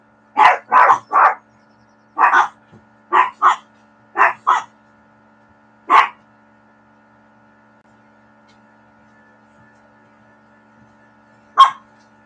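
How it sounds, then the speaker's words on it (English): Several dogs bark at a house in quick clusters of two and three sharp woofs, then fall silent before one last bark rings out over a faint steady hum. "Dogs barking at nothing."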